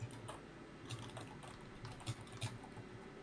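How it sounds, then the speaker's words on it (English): Frenzied clicking of a computer keyboard in quick irregular bursts, faint and close, with no talk over it. "hear frenzied typing"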